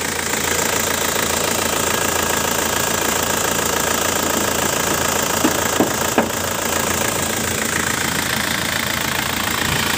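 A 2003 Isuzu Panther Grand Touring engine runs at idle, a steady loud mechanical drone with a fine knocking rattle throughout and a couple of faint brief clicks near the middle.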